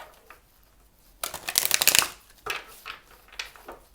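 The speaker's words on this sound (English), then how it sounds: "we'll do one last shuffle." Tarot cards are riffle-shuffled in a quick, close burst of papery fluttering, followed by a few softer shuffles and taps.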